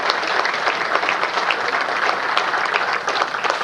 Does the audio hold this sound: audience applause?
yes